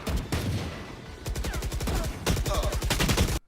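Rapid bursts of gunfire from the Valorant tactical shooter game, loud and close, in several quick volleys separated by brief pauses.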